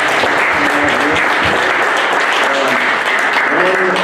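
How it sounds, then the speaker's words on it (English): Sustained audience applause at an evening fishing club meeting after a talk on red band trout, dense steady clapping filling the room throughout without a break. "Let's give Matt a round of applause."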